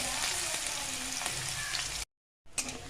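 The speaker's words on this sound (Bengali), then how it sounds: "তেল গরম হয়ে গেছে, এবার লাউ পাতায় সম্বার দেবো, শুকনো লঙ্কা, কালো জিরা আর রসুন।" Dried chilli, black cumin and garlic sizzle loudly in hot oil as a tempering for bottle gourd leaves, a dense steady crackle that cuts out briefly and then resumes.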